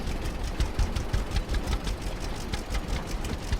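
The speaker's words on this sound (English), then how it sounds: "Tractor sounds cool." A chugging tractor engine in the video game Farmers Dynasty runs steadily with a rapid knocking rhythm, close and fairly loud, with no talking.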